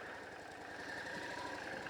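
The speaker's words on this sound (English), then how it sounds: "Got a nice low tick over" A 1998 Yamaha XVS650A Dragstar Classic V-twin motorcycle ticks over at a low, steady idle, a continuous even rumble heard close and alone.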